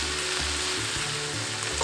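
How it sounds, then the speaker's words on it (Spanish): Onion sizzles in a pan alongside cooked meat, a steady close hiss and crackle with faint rhythmic scraping underneath, heard alone without speech. "agregamos la cebolla y esperamos que se cristalice la cebolla"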